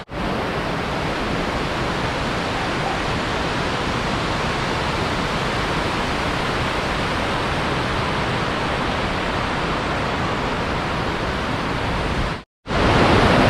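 River water pouring over Balanac River Dam in Magdalena, Laguna, a dense, steady roar of rushing flow that fills the scene and breaks off briefly near the end before resuming.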